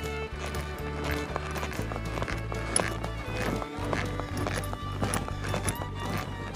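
A horse trained for vaquejada moves during a schooling session, its hoofbeats clip-clopping in a steady rhythm against background noise, with a snort or whinny mixed in.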